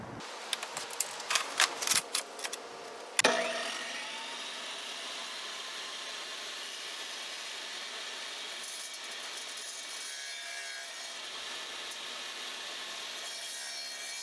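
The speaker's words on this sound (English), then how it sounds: "Now we will miter cut this hard porcelain 12 by 24." A Kobalt 10-inch wet tile saw makes a miter cut through a hard 12 by 24 porcelain tile. A few sharp knocks come first, then a continuous high grinding whine that stays steady and close for about eleven seconds.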